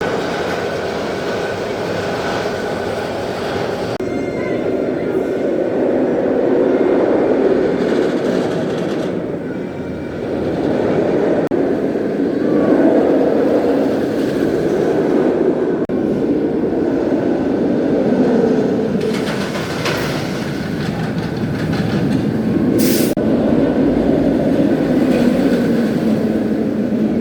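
Kumba roller coaster at Busch Gardens, a steady loud rumble and rattle of the coaster train running along its track, continuous for nearly half a minute with surges and dips and a brief high squeal near the end, no voices.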